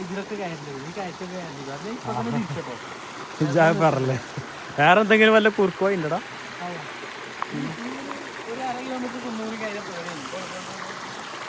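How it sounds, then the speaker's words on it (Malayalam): A village stream runs steadily in the background, a soft continuous wash of flowing water that stays under people talking throughout. "ഇതാണ് നമ്മളെ തോട്ടിലെ വെള്ളം കേട്ടോ"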